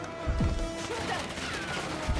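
Gunfire in the Black Ops 6 campaign mission Blood Feud, a few loud bursts of shots with impacts amid game ambience, with brief voice chatter in the mix.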